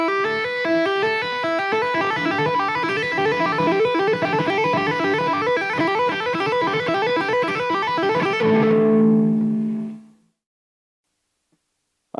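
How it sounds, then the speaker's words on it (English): Electric guitar playing a tapped four-note melody with hammer-ons and pull-offs, fast even repeating figures with a driven tone for about eight seconds, then a held chord that rings and decays into silence. "let's change our little tapped melody here we're going to stick with a 4-note figure"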